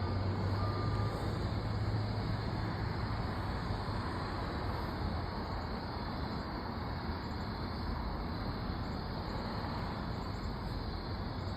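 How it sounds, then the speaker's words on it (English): Steady road traffic from a monitoring spot near Leto Well: a continuous broadband rumble and hiss of passing vehicles, even in level throughout, with no talking. "We're also picking up background traffic."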